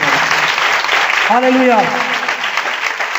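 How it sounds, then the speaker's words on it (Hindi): A church congregation applauds loudly and steadily, a dense wash of clapping throughout, while a voice rises over it in a short exclamation. "आइए हम सब खुदावंद के लिए जोरदार तालियां"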